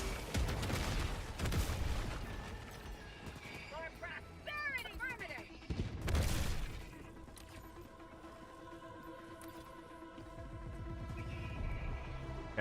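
Video game combat: gunfire rattles and grenades boom in bursts, with a heavy blast about midway, while a player talks over the action throughout.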